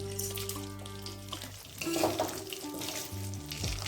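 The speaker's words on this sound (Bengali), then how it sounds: "কড়াইতে তেল দিয়ে আমি দিয়ে দিচ্ছি গোটা গরম মশলা" Whole garam masala spices, cloves, cardamom and peppercorns with a little sugar, sizzle and fry in hot mustard oil in a wok, a steady close crackle with light stirring.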